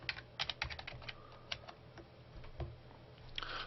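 Someone types quickly and fairly quietly on a computer keyboard, an uneven run of close key clicks and taps.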